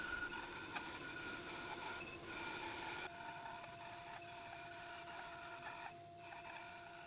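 Tasmanian oak strips feed through a thicknesser in a woodworking shop, giving a faint, steady mechanical drone with slight shifts in tone as the boards pass.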